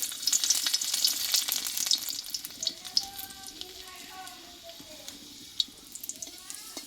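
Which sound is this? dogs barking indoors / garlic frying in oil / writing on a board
garlic frying in oil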